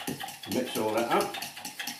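Raw steak tartare being stirred together with egg yolk in a bowl, a wet, sticky mixing and scraping sound with utensil clinks against the dish, close and continuous.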